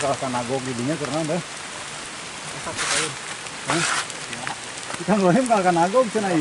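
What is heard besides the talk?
rain falling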